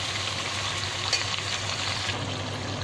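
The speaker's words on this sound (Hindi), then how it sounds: "15 मिनट इसे अच्छे से पकाएंगे प्याज को," Onions fry in a pan for beef biryani, giving a steady, even hiss of sizzling oil that runs close and unbroken from start to finish.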